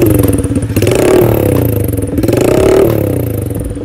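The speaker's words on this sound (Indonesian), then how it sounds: "Lihat kan suara knalpotnya, mantap sekali." A modified Honda Astrea BMX Cub motorcycle revs its aftermarket exhaust up close, two rising and falling throttle blips over a steady idle rumble with some mechanical clatter, loud and with no voices.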